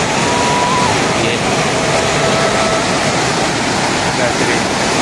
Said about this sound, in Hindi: कलवट के कलवट से पानी गिर रहा है, तो बढ़िया सा झरना बनता है यहाँ पे